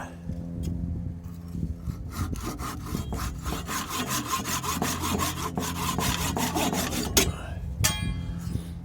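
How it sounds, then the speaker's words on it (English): A hand saw cuts through a turned wood piece made from firewood, a steady continuous rasping stroke close by, growing denser and louder toward the end of the cut. "Do our final saw cut to cut that last little bit."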